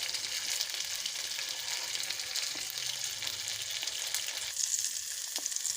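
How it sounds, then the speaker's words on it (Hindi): Chicken tikka pieces fry in a little oil, a close, continuous sizzle with fine crackling pops throughout and a few sharper spits near the end. "ज़्यादा ऑयल नहीं आपने यूज़ करना, बस हल्का सा थोड़ा सा बस हमें इसको फ्राई करना है"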